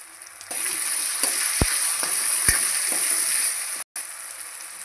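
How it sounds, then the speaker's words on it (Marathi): Chopped tomato and chili-ginger paste dropped into browned onions hiss and sizzle steadily in a hot pan, with a few sharp spoon clicks against the metal and a brief cutoff near the end. "आता मिरची अद्रकची पेस्ट, टमाटर टाकायचं चॉप केलेलं,"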